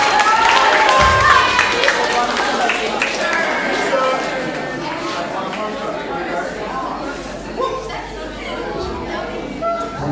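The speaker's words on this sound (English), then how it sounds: "Give him a big round of applause." Audience at a science and astronomy presentation claps for a man who answered correctly, applause loudest at the start and tapering off as crowd chatter and voices carry on beneath and after it.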